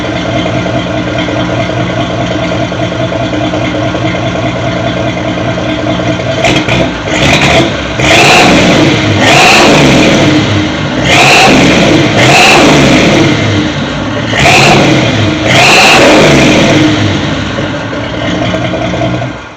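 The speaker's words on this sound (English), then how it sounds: "Let it warm up for a second. I'll give it a couple revs." A 1983 Chevy C30 truck engine idles loudly, then takes a series of sharp revs in quick bursts, each rising and falling back to a rough, throaty idle, close up with no talking.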